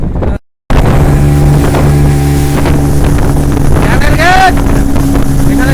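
A motorboat powers across a dam reservoir on the Mayurakshi river under cloudy skies, its engine droning loud and steady with heavy wind buffeting the microphone after a brief dropout near the start.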